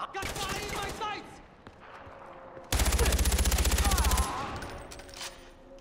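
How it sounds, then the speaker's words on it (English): Bursts of automatic gunfire in the video game Far Cry 4, a loud sustained rapid volley in the middle, with scattered shots and a voice talking before and after. "Someone's firing."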